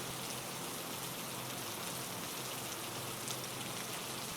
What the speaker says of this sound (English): The sound of the rain is the only thing left in the darkness.